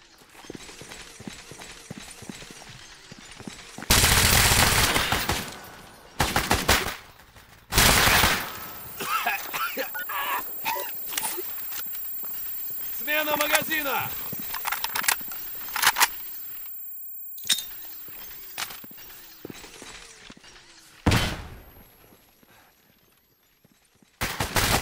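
Bursts of enemy gunfire in Stalker GAMMA, loud clustered volleys and sharp single shots spread across the span with quieter gaps between, some rattling like automatic fire.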